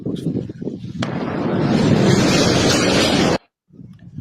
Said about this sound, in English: if looking at the size of this explosion